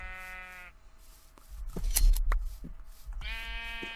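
Minecraft sheep bleat twice, a clear wavering cry at the start and another at the end, with thumps and clicks of game actions in between.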